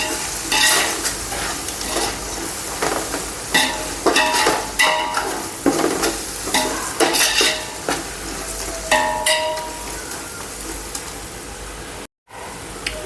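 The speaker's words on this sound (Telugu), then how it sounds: "కొద్దిగా పసుపు వేసుకుంటున్నానండి. బాగా మిక్స్ చేసుకోవాలి ఇదంతాను." A spoon stirs turmeric into chicken biryani masala in a pan, with repeated scraping strokes over a soft sizzle of frying, close and continuous without talk.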